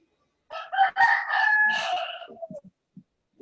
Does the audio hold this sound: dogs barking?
no